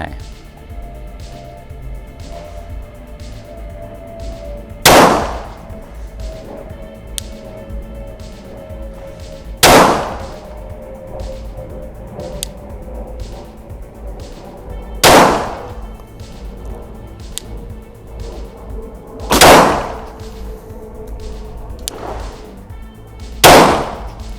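A Glock 17 Gen 3 pistol fired at a human-silhouette target at a range, five loud sharp shots spaced several seconds apart, each with a short ringing tail, over quiet background noise and fainter distant pops.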